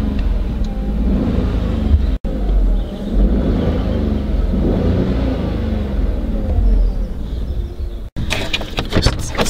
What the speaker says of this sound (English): have to give the car a little rev